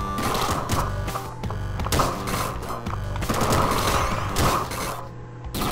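Bursts of rapid gunfire from gem-powered bullets in the video game Downwell, dense overlapping shots and crunchy impacts rattling almost without pause alongside game music.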